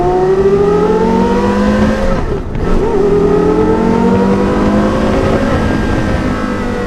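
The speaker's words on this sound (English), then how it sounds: "the greatest exhaust note of all time" A Porsche Carrera GT revs hard nearby, its exhaust note climbing in pitch, dropping briefly on a shift, then pulling up again in a loud, continuous high-revving wail.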